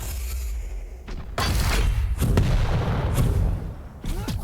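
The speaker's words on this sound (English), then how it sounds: "Rockets detonating all over the shop." Rockets detonate in a Quake Pro League match, several heavy booming blasts in close succession, loud and punchy with short gaps between.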